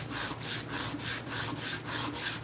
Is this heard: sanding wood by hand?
yes